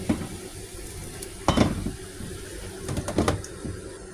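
Eggplant and okra stir-fried in a pan with no oil give a soft, dry sizzle, broken by a couple of louder scraping stirs of the spatula against the pan.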